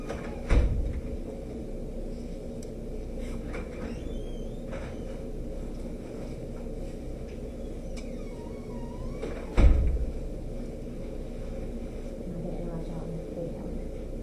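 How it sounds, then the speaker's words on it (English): A classroom door bangs once near the start and again later, sharp close thumps standing out over a low steady room hum and faint background noise. "let me make sure I open the door"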